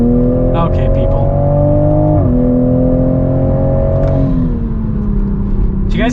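A 2021 Toyota Supra accelerating hard in third gear to pass on a canyon road, its engine note climbing steadily with a brief dip at a shift, loud and close from inside the cabin.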